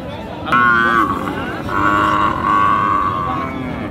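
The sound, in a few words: cows at a cattle market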